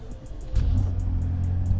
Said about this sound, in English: So I'm gonna turn the car on